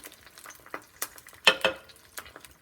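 Quiet sizzling of peppers frying in fat in a pot, broken by a few sharp clinks and scrapes of stirring.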